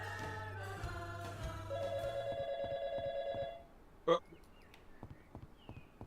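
A telephone rings inside the video game YIIK, a repeating electronic trill pulsing steadily for about two seconds over background game music, followed by a short sharp chime.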